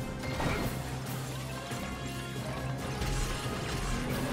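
Turtle enemies get smashed in The Wonderful 101: Remastered: dense, busy game combat with repeated crashing impacts and clattering hits over a continuous loud mix, no talking.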